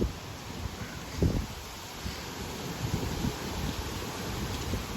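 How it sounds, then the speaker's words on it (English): Strong wind blows outdoors at night, a steady low rumbling roar with brief gusts buffeting close by. "a lot of wind tonight"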